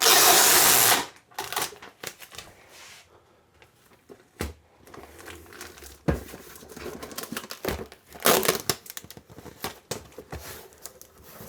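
Packing tape is pulled off the roll and pressed onto the bottom of a cardboard box. A loud ripping burst opens the sequence, followed by intermittent tearing, crinkling and handling noises, with no talk.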